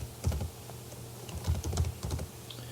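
Code being typed on a computer keyboard, a close run of quick, irregular key clicks and taps with short pauses, alone without talk.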